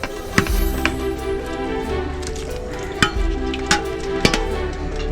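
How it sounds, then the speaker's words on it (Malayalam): Beef curry is stirred in a pot over a steady bubbling simmer, with a few sharp metallic clanks of the spoon against the pot standing out. "അമ്മേ ഒന്ന് ഇളക്കി കൊടുത്തേന്നു."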